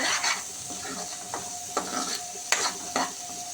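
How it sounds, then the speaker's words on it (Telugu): Biryani curry masala fries in a pan over low to medium flame, a close crackling sizzle broken by a few sharp scrapes of a spoon stirring to stop sticking. "మనం ఇలా పెట్టుకొని ఫ్రై చేస్తూనే ఉండాలి కింద అంటుకుంటే చేదు వచ్చేస్తుందండి ఇలా కలుపుతూనే ఉండాలి"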